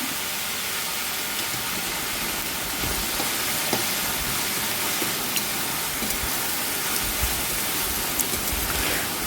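Salted ivy gourd thoran being stirred in a pan, a steady broadband sizzle and hiss with faint scraping taps, continuous and close, no talking.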